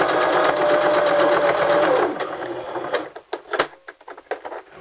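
Close sewing machine stitching fabric during a beginner sewing lesson, a steady whirring run for about two seconds before the motor stops, followed by scattered clicks and handling noises as the thread is worked around.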